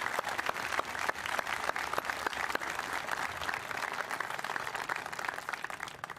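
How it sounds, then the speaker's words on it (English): A large crowd applauds the staff at the 2021 Bellows Free Academy graduation ceremony, with loud, continuous clapping made of many crisp, closely packed hand claps that never let up. "I would like to give the staff a big round of applause for showing up since day one."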